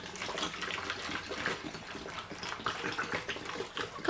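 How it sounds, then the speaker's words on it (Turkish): Water pours steadily into a jar of stuffed red kapya pepper and cucumber pickles, a continuous splashing trickle heard close up with no talk. "En sonunda suyunu ilave ediyorum."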